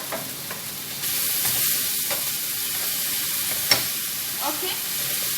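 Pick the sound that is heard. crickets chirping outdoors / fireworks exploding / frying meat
frying meat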